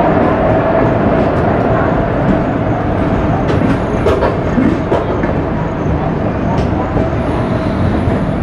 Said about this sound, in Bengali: ট্রেনটা একটা এক নম্বর প্ল্যাটফর্মে দাঁড়িয়েছিল বিনা জংশনের, এটা এখন ছেড়ে বেরোচ্ছে এক নম্বর থেকে